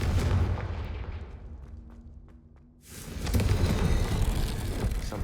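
A Confringo explosive spell in the Hogwarts Legacy video game bursts as a loud, heavy rumbling blast. A fiery roar swells and fades, then a second strong surge of crackling booms fills the rest, with no talk.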